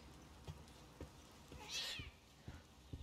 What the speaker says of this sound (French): Oh, pauvre petit chat, je lui fais peur.